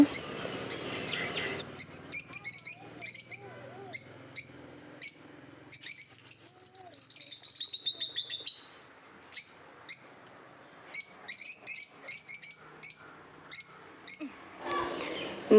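Small birds chirp and tweet in short, repeated bursts, fairly close, with brief quiet gaps between calls.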